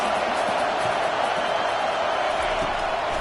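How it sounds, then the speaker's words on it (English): A college football stadium crowd roars steadily during an OU versus Vanderbilt game, a dense, loud wash of noise that holds throughout with no pauses. "This crowd trying to make life miserable for this offense."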